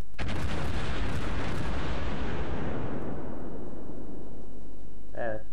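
A naval artillery salvo booms in World of Warships, a loud, heavy blast that rolls and decays over a few seconds, followed by a brief voice.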